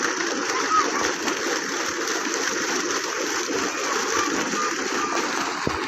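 Steady rushing and splashing of water gushing forcefully from a village borewell, continuous and close, with faint voices underneath.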